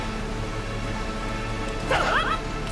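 A dog barks once, short and sharp, near the end, in the video game Neptunia X Senran Kagura: Ninja Wars, over a steady low hum of background game sound.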